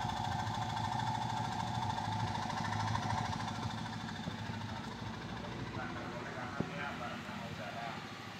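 Exhaust from a 2009 Toyota Yaris, treated with Blackcore carbon cleaner, rumbles steadily near the tailpipe as the engine runs, with a single sharp knock late on.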